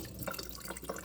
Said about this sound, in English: Okay, so then you can pour out,